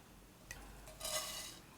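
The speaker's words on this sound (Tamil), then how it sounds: "இப்போ நம்ம முதல்ல அவலை வறுக்க போறோம் இல்லையா?" Flattened rice (aval) is stirred with ghee in a pan, giving a short, quiet scraping and rustling of the flakes against the metal, about half a second long, after a faint tap.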